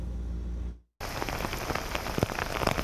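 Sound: heavy rain downpour from remnants of Hurricane Florence

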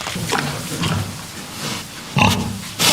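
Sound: pigs oinking on a farm

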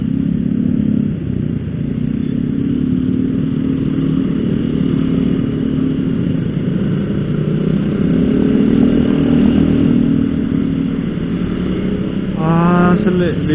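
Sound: 125cc motorcycle engine riding fast

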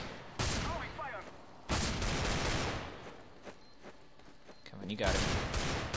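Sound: gunfire in CS:GO video game

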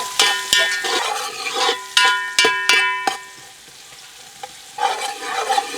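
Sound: onion pieces frying in a pan

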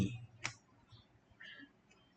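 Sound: computer mouse click

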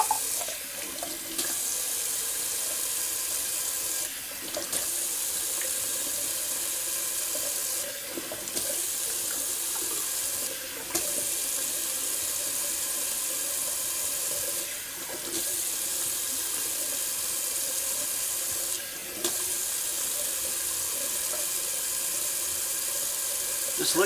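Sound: cold water running from sink tap for face rinse

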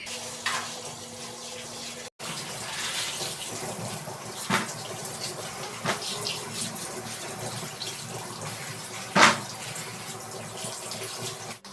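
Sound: washing vegetables under running tap water

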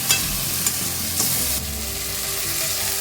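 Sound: stir-frying ginger-garlic paste with fish head

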